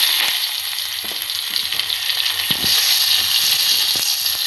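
Onion frying in a pan for vegetable pulao, a loud continuous sizzle close up with a few soft stirring knocks and no talking.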